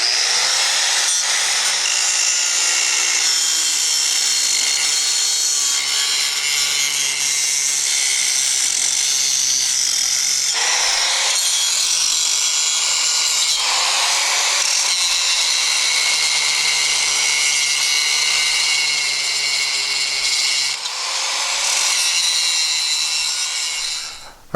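Mastercraft corded angle grinder fitted with a 1/8 inch blade, loud continuous high-pitched whine running steadily for the whole stretch with slight dips in pitch as it bears into the material.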